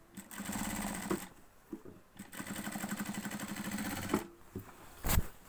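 A sewing machine stitches trousers in several quick mechanical runs, each a rapid rattling whir, separated by short pauses and ending with a sharp clack.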